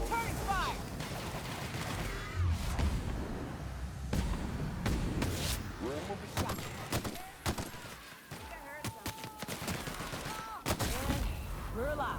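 Firefight gunfire in The Outer Worlds: repeated sharp gunshots and short bursts scattered across a noisy battle, with occasional thuds and mechanical clanks, fairly loud throughout.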